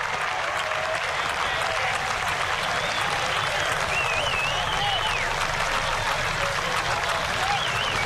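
Baseball crowd at a spring game cheering and applauding as play unfolds, a constant loud wash of clapping and crowd roar with a few whistles rising above it, steady throughout.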